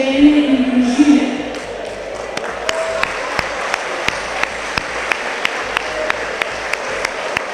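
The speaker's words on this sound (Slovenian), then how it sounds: "Mislim, da si zaslužite velik aplavz" Applause at a gathering of Slovenian transport families and haulage companies. A voice talks over the opening second, then a crowd claps steadily, with sharper individual claps standing out at a regular rhythm.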